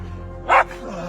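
A single short, sharp bark from a hunting dog during a badger hunt outdoors, fairly close, rising over a low background rumble.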